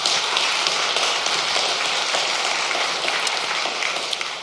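Dense, continuous applause from an audience at a Vision Sunday gathering, steady and loud throughout with no voices over it.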